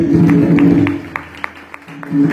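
At a kirtan, an audience claps together in a steady, even beat of crisp claps against sustained music, loud and close throughout.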